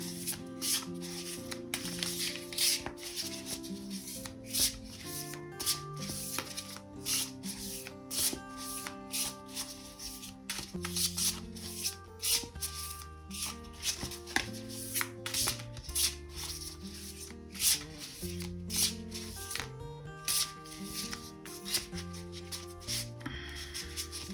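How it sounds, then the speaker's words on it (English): Cards are shuffled repeatedly in quick riffling bursts, close and crisp, with faint rubbing between shuffles and a quiet musical background. "Let us shuffle."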